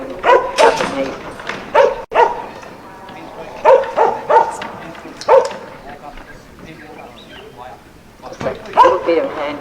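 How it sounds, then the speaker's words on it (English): A working yard dog at a yard dog championship in Casterton, Victoria barks in short bursts at sheep, loud and near, with a commentator talking over and between the barks. "Bit of handy bark that pushes them up there"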